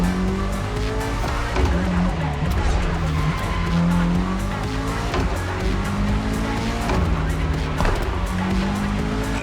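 A Toyota GR86 with a light, naturally aspirated engine races through neon-lit streets in The Crew Motorfest, engine revving up and down while tires squeal and skid repeatedly through corners, loud and continuous.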